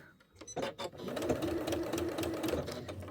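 A domestic sewing machine stitches through fabric in a floating studio, a few short starts followed by a steady close whirring run of rapid needle strokes.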